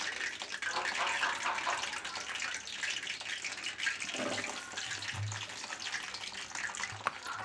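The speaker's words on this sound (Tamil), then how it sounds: "இப்போ எண்ணெய் சூடானதும் ஃபஸ்ட்டு ஸ்லோ வச்சுக்கலாம். ஏன்னா நம்ம தண்ணியில் அறுத்து போட்டதுனால சடணும். அதனால் ஸ்லோ பண்ணிட்டு நம்ம கத்திரிக்காயை ஒவ்வொன்றா இதில் சேர்த்திக்கலாம்." Eggplant pieces sizzle in hot oil on low heat while cooking for ennai kathirikai kuzhambu, a Tamil stuffed-eggplant curry. A continuous close hiss and crackle runs throughout, with occasional louder spits and no talking.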